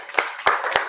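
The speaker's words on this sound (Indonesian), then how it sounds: "Iya, tepuk tangan." A classroom of students claps hands in three sharp, evenly spaced claps, close and fairly loud, with no talking over them.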